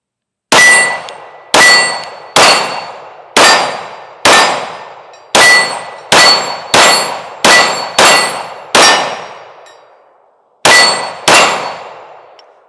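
A Sig P365 Fuse pistol fires about a dozen sharp, loud shots at an uneven pace, each with a ringing tail, and a short pause comes before the final two.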